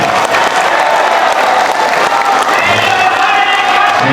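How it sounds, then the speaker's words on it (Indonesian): Loud, continuous applause and crowd noise from a political rally audience cheering for Anies Baswedan at a labor union (KSPSI) endorsement speech, a dense unbroken roar throughout. "Kita berikan tepuk tangan sekali lagi untuk Pak Anies Baswedan."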